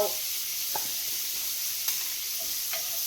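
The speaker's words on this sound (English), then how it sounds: "I'm going to saute my onions." Onions sautéing in a pan with a soft continuous sizzle and a few faint spoon clicks, heard close with no voices.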